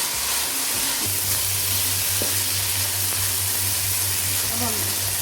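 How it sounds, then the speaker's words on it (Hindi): Capsicum and carrot fry steadily in a pan for spicy chicken spaghetti, a continuous close sizzle with a low hum beneath and occasional stirring clinks, no talking. "अब 2 से 3 मिनट हम ये शिमला मिर्च डाल के भी पकाएंगे"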